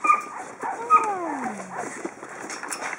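Several rescued puppies whimper and yip, high thin whines rising and falling in overlapping bursts, close by, with soft background noise.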